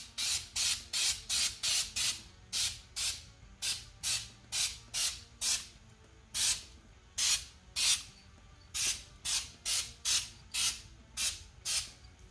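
Aerosol can spraying heat-resistant grill paint onto car brake calipers in a garage: a long series of short, sharp hissing bursts in an uneven rhythm, loud and close, with nothing else heard.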